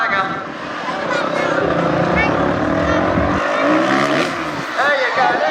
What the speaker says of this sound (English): Just using the power of this engine to drive out the top of that ramp.